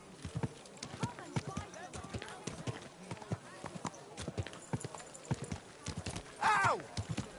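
Horse hooves clip-clopping at a steady trotting rhythm on a road in Kingdom Come Deliverance 2, close and continuous, with a brief horse whinny near the end and voices talking over the hooves.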